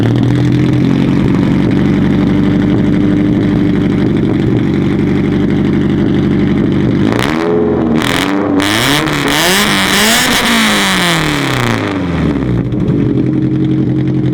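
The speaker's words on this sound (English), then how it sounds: "a crazy loud Tomei exhaust, which I should probably go ahead and start up for you" A JDM car with a loud Tomei exhaust rumbles at a deep, steady idle close by, then is revved hard several times in quick sweeping bursts before settling back toward idle.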